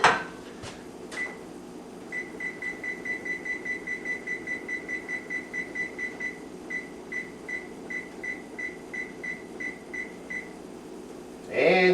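Setting a kitchen oven to 500 degrees on its control panel produces a long run of short, evenly spaced electronic beeps, with a few knocks before them and at the end.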